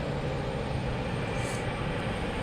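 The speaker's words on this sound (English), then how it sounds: "You got a United Airlines Boeing 737 going to Washington." A United Airlines Boeing 737 jet airliner at Logan Airport gives a steady, broad engine roar that holds constant, moderately near, with no talking.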